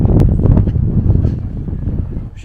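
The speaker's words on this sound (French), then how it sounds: "Avec le vent glacial," Icy wind buffets the microphone outdoors with a city view, a loud, continuous low roar and rumble that gusts unevenly throughout without any talking.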